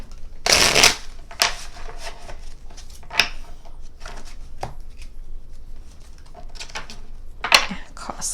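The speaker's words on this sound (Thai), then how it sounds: "โอเคเดี๋ยวจะขอหยิบไพ่ให้กับชาวมีนนิดนึงนะ" Tarot cards are shuffled in a few quick riffling bursts and taps, close by, with soft handling noises between them during a horoscope reading.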